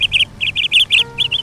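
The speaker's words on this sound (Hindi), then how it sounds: "जंगल फिर से चहचहाने लगा। दूर दूर से पक्षी फिर वापस आने लगे।" Cartoon-style forest birds chirping in quick bursts of short, bright tweets, repeating steadily and close by with no voices.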